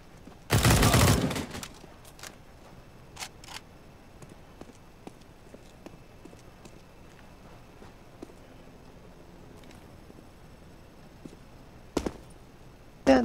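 Counter-Strike: Global Offensive gunfire: an opening loud burst of rapid shots, then scattered faint footsteps and clicks, with further sharp shots near the end.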